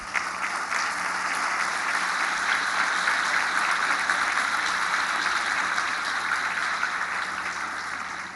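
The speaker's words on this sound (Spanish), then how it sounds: "Un fuerte aplauso, por favor." A crowd at a government welfare-program public event in Apetatitlán, Tlaxcala, Mexico, applauds in a continuous, even wash of clapping that stays steady throughout before easing slightly at the very end.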